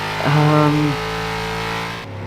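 A car engine in a racing video game: a loud tonal hum that swells briefly, then holds a steady, slightly droning note before dropping off near the end.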